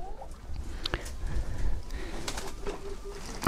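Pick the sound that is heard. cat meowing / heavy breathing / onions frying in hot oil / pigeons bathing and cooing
pigeons bathing and cooing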